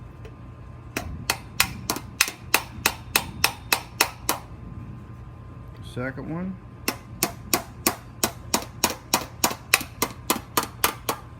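Light hammer blows knock dents out of a metal sink, a steady run of sharp, evenly spaced taps close up. A short spoken remark breaks the rhythm partway through, then the tapping resumes.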